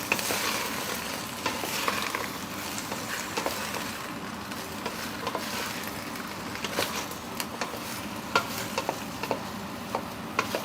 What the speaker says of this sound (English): I'll throw the apples in, let them turn that down a little bit, just toss them around a little bit in there